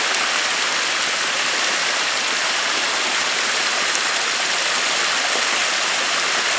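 Cold mountain stream in Neelum Valley, Kashmir, rushing steadily in a loud, broadband wash of flowing water that holds constant throughout, with no voices present.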